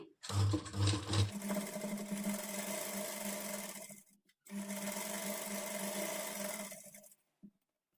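Sewing machine running steadily while stitching the side seam of a kurti, one short burst then a long continuous run, a brief pause near four seconds, then another long run before stopping; close and loud, no talking.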